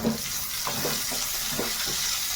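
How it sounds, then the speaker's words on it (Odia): Onions frying in a pan for an Odisha-style cauliflower and drumstick besara: a steady close sizzle with a few soft stirring scrapes, no talk. "ପିଆଜ ଟିକେ ଛାଡ଼ିଦେବ କିଛି ସମୟ ଭାଜି ହେଉ"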